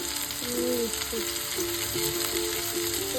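Cauliflower frying in a pan for a Bengali cauliflower curry, a steady close sizzle of hot oil running throughout with occasional stirring, no one talking.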